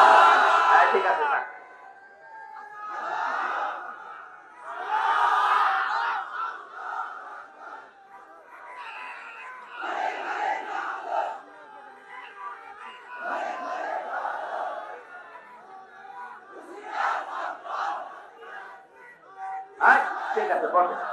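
A crowd at an Islamic sermon gathering shouts the takbir in unison, several loud, short collective bursts separated by pauses, with a lone leading voice calling between them.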